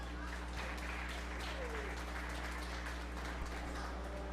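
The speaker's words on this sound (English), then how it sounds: "give these exhibitors another round of applause" Applause for young exhibitors at a 4-H fair beef show, a steady wash of clapping under a constant low hum from the arena, with faint voices mixed in throughout.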